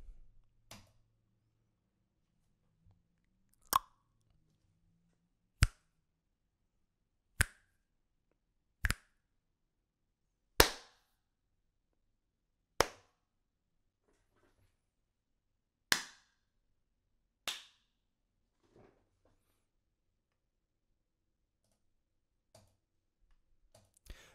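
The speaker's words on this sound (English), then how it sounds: "A couple of those claps really clicked. So you're able to see that I was able to get some pretty cool samples just from clicking my tongue here." About ten sharp, isolated hand claps and tongue clicks recorded close into a microphone, spaced a couple of seconds apart with silence between, followed by a few fainter ticks.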